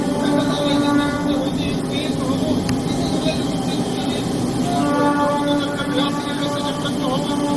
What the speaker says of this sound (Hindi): ट्रेन लगातार जो है वो रन कर रही है।